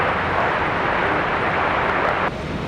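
A United airliner departs Raleigh-Durham airport on a windy day, its jet engines a loud, steady broadband roar that holds for a few seconds before dropping off suddenly near the end.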